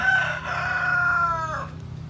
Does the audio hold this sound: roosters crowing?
yes